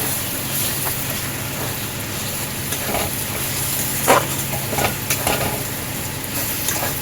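Chicken masala with ground coriander and cumin fries in a pan, giving a low, steady sizzle with several sharp scrapes and knocks of stirring, close and without talk.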